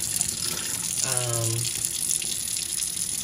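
Tap water runs steadily into a sink while tulip-shaped glass pieces are washed, a constant close gush with a brief tonal squeak in the middle.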